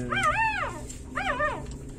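A young puppy whimpers and cries in two high, wavering whines, close and fairly loud with a short pause between them.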